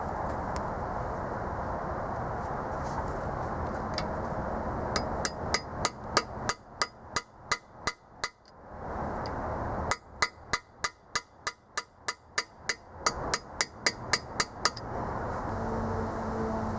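Repeated metal hammer strikes driving a freeze plug into a small block Chevy engine block with a bolt used as a driver, two bursts of rapid, evenly spaced ringing blows, close and loud, with a short pause between.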